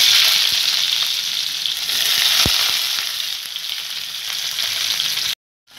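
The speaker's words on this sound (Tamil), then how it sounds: "இப்போ நம்ம நறுக்கி வச்ச வெங்காயத்தையும் பச்சை மிளகாயும் போட்டுடலாம்." Loud, steady sizzling of chopped onions and green chillies frying in a hot pan, a dense hiss running continuously before cutting off abruptly near the end.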